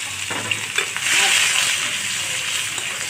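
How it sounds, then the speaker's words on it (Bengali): Chopped onion and garlic hit hot oil in a pan for a hilsa fish and taro stolon curry, giving a steady, close sizzle that swells loudly after the first second and holds, with a few stirring clicks and no talk. "এখন আমি কিছু পরিমাণে পেঁয়াজ কুচা রসুন কুচা দিয়ে দেবো"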